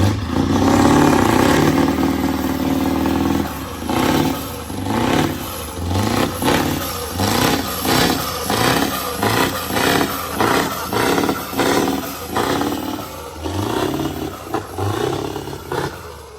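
A Scania truck engine fitted with upgraded turbo and injectors roars loudly, then revs in a series of sharp, repeated bursts that rise and fall rhythmically, close to the listener.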